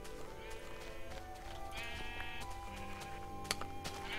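Minecraft sheep bleat over a game soundtrack, their short wavering cries rising now and then through steady background music with a sharp click near the end.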